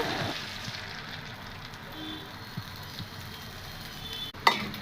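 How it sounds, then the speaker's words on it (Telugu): An omelette fries in a hot pan with a steady, close sizzle and crackle, punctuated by a few soft scrapes and a sharp clatter near the end. "ఇక ఇక్కడ ఆమ్లెట్ కూడా వేసుకుంటున్నాను"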